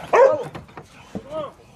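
A hunting dog gives a sharp, loud bark followed by a rising whine-like yelp, close by, with people talking around it.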